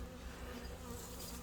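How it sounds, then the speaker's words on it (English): Bees buzz steadily around a taped-up wooden beehive, a continuous close drone with no talk over it. "bees were clustering here"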